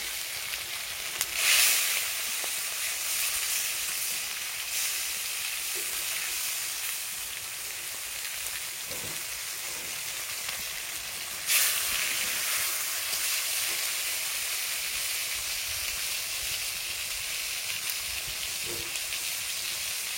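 Fish caught from a village pond fries in a pan with a continuous dense sizzle that runs through the whole stretch, and a couple of brief louder spits stand out near the start and midway.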